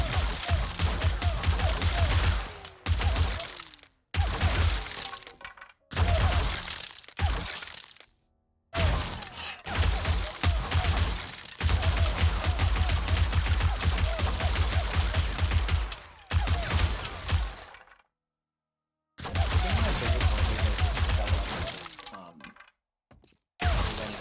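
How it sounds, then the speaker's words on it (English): Repeated loud bursts of a mod gun blasting apart rubble piles in the video game 7 Days To Die, crackling and shattering in long stretches separated by short silent pauses. "I'm just over here destroying rubble piles with the mod gun"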